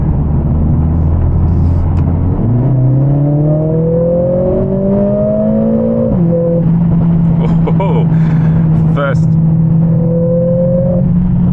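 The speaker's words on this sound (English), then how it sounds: "Sounds like the exhaust is still as poppy as ever" A 2024 Mercedes CLA45s AMG kicks down and accelerates, its engine note climbing through gear changes with exhaust pops and crackles, loud and close from inside the car, with occasional speech.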